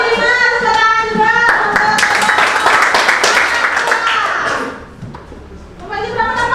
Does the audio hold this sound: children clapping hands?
yes